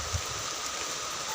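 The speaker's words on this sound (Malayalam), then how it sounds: "പിന്നെ ഇപ്പം അങ്ങോട്ട് പെയ്യാൻ തുടങ്ങിയതേ ഉള്ളൂ" Rain begins to fall in cool monsoon weather, a steady, even hiss of drops with no distinct individual hits and no voices.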